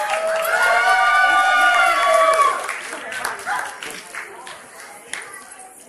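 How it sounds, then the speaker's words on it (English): A wedding crowd bursts into applause and cheering, with a few voices whooping at the start before the clapping and chatter taper off into scattered claps and murmurs. "Can we give a big round of applause for both of them?"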